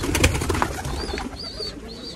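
Pigeons coo a few times in short soft bursts close by, with light rustling and faint background noise between the calls.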